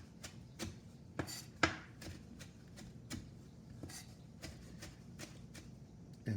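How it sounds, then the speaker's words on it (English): A chef's knife chopping and mincing parsley on a cutting board, a series of crisp, irregular close knocks of the blade, some sharper and louder than others, with no talking. "chop the parsley"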